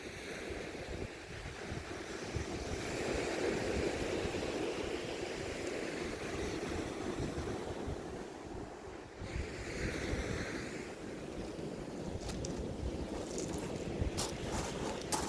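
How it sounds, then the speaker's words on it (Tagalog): Sea waves wash steadily onto the shore along the Newhaven seafront, a continuous rolling surf with gusts of wind buffeting the microphone; no one speaks. "Ganda pakinggan ng alon."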